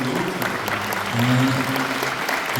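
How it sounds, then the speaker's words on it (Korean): Applause of encouragement from an audience at a book concert in a large convention hall, a dense steady clapping with a faint voice murmuring beneath it. "응원의 박수"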